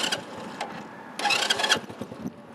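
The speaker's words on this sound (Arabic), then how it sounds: "هو ديمارينا الموتور" A small automatic-gear moped engine sputters and catches once, revving briefly with a rattling buzz before settling back down, close by and fairly loud.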